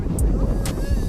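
Wind buffets the microphone beside the pink lake at Torrevieja in Spain, a close, continuous low rumble through the whole short moment.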